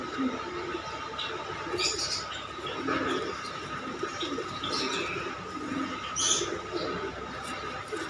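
Pigeon cooing close by in repeated low, throaty calls while scuffling and fighting with a person, with brief rustles and flaps over steady background noise.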